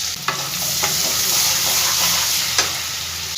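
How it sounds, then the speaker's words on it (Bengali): Chopped onion dropped into hot oil with whole cumin seeds, frying with a steady close sizzle and a few sharp scrapes of stirring over the hiss. "এবার কুচো করে রাখা পেঁয়াজটা আমি সম্পূর্ণ এর মধ্যে দিয়ে দিলাম।"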